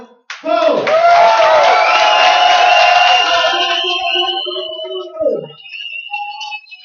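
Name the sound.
crowd cheering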